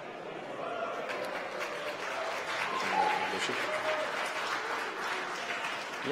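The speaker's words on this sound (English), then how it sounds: "You might hear the applause in the background." Steady applause fills the background throughout a SpaceX rocket launch, a continuous wash of clapping from a crowd, with faint voices mixed in.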